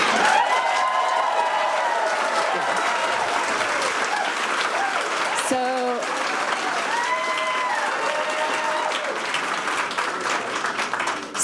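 Crowd at a Planning & Zoning Commission special meeting applauds loudly and continuously, dense clapping with some cheering, while tonal voices or feedback-like tones ring faintly through the mix.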